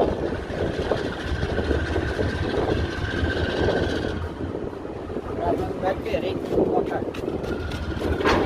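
A GE ES44ACi diesel locomotive arrives and maneuvers in the Barreiro rail yard, a steady, fairly faint engine rumble with a few sharper clanks toward the end.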